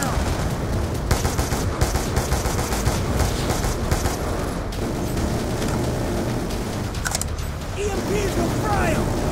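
Turret machine-gun fire in Call of Duty Black Ops 2, rapid bursts of automatic shots rattling over a dense battle din, with mechanical clanks and faint shouting mixed in.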